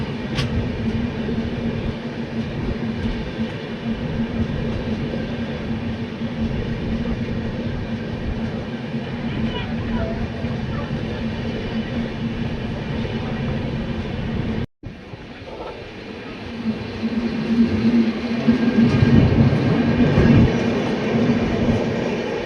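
The Sarvodaya Superfast Express runs on its journey from Katra toward Ambala, heard from inside in sleeper class with a continuous rumble and hum, a brief cut, then louder rolling as the train moves onto a bridge.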